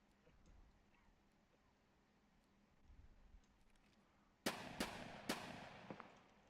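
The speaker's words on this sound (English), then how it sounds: "The scout shooting at him." Three sharp, close gunshots from a video game crack out in quick succession after a quiet stretch of faint background noise.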